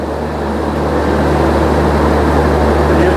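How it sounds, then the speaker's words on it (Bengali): Generator running in a railway EOG power van beside the Padatik Express at a station platform, a loud, steady, unchanging engine drone with a deep hum and broad rushing noise, no voices. "এটা হচ্ছে ইওজি ভ্যান, জেনারেটর চালিয়েছে বলে আওয়াজ হয়ে যাচ্ছে।"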